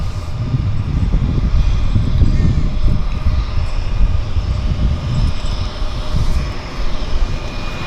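Two Turbo Otter floatplanes taxi out at a downtown harbour airport, their engines giving a loud, steady, low rumbling drone that stays close and continuous throughout.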